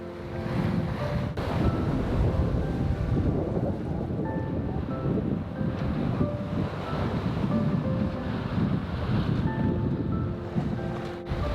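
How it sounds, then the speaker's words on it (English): Steady wind and sea wash around a sailing boat running downwind in light air, a continuous broadband rush of water and breeze with faint creaks, close and even throughout, no talking. "It's lighter wind and we're going downwind"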